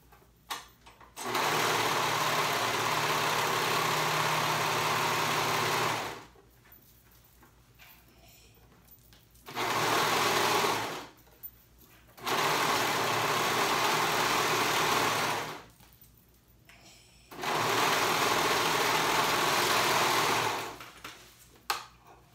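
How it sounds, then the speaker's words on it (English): Sewing machine stitching fabric for paper bag pants, running in four long steady buzzing bursts of several seconds each, separated by short quiet pauses, loud and close. "now I'm going to go ahead and sew that on"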